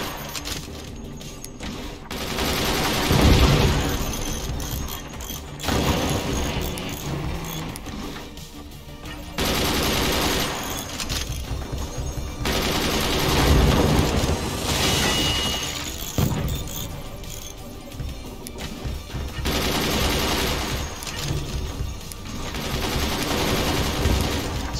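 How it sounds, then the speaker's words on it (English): In the Forts strategy game, a mortar and other weapons fire in repeated loud volleys of booming, crackling shots and shattering impacts, coming in bursts with short lulls between them. "So he's firing one mortar, and then firing the rest"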